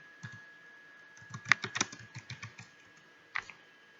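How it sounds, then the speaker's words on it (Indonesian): A computer keyboard being typed on, a quick run of soft clicky keystrokes in an uneven rhythm, close and fairly quiet, ending with one isolated tap after a short pause; a faint steady tone hums underneath. "kalian bisa ketik Google Form di Google"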